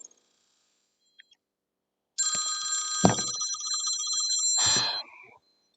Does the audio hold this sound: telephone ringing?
yes